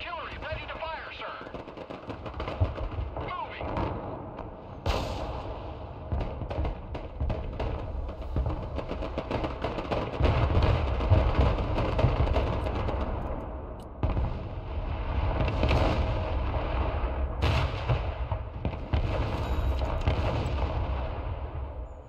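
Artillery barrages and gunfire in the video game Broken Arrow, with dense booming shots and rolling blasts across the whole stretch, mixed under game voice lines.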